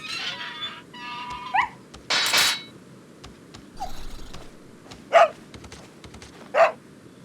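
Dog caught in a trap in the video game Resident Evil 4, giving several short whimpers and yelps spaced apart, with brief mechanical clanks and scuffs in between.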